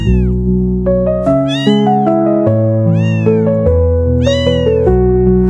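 A cat meows repeatedly in a rising and falling pattern, sung within a children's lullaby-style music track with a sustained instrumental backing underneath.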